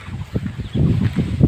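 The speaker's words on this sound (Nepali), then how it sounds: "हावा लागिरहेछ पानी परिरहेछ" Gusty wind buffets the microphone in low, rumbling bursts that grow stronger and more continuous toward the end, in a Nepalese village with rain falling.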